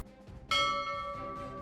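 A single bright chime rings out as a subscribe-notification sound effect, striking sharply after a quiet moment and then ringing on with a clear sustained tone.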